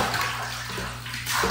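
Bath water sloshes continuously while someone is washed in a tub, a close, full wash of splashing that swells slightly toward the end, with no voices over it.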